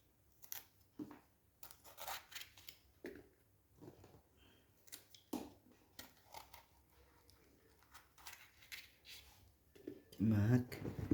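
Peppers are cut by hand for pickles, giving crisp, close snips and crunchy slicing sounds in an irregular rhythm, with quiet movement between cuts and a louder handling rustle near the end.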